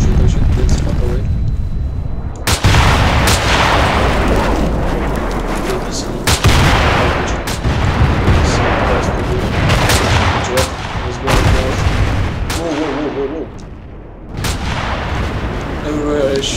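Gunfire in Battlefield 2 with a weapon mod, loud booming shots and explosions cracking out repeatedly amid rapid fire, close and heavy, with excited talk over the barrage.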